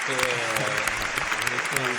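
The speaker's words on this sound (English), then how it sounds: "Round of applause on time, man." A small group gives a short round of applause during a casual podcast conversation, the claps steady and fairly soft beneath some background tones.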